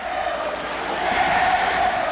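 A UST basketball arena crowd at a 1993 UAAP Season 56 finals game against Adamson cheers loudly in a steady, dense roar that swells slightly and carries no distinct voices.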